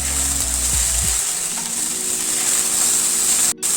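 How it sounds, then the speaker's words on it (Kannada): Ivy gourd pieces fry in a pan over a medium flame, giving a steady, close hiss of sizzling oil with a couple of brief scraping stirs early on and a short cut near the end. "ಚೆನ್ನಾಗಿ ಈ ರೀತಿ ಫ್ರೈ ಮಾಡ್ಕೊತಾ ಇರಬೇಕು."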